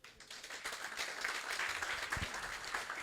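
A church congregation claps for the Lord in a steady, moderately distant burst of applause with a few louder claps, and voices murmur faintly beneath.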